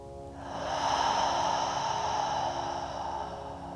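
One long, deep breath drawn in and let out slowly through the nose during a yin yoga practice, close and fairly loud, with no talking over it.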